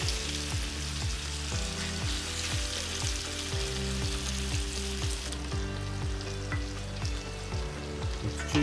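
Beef strips sizzling on high heat in a cast iron skillet for a Mongolian beef stir fry, a steady loud crackling hiss throughout with faint rhythmic tapping underneath, close by and no speech.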